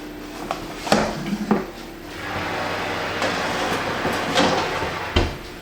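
A metal roasting tray of potatoes, fresh from being tossed in fat and salt, is slid back into an oven, with sharp clanks and scrapes of metal followed by a low hum and a final clunk as the door shuts.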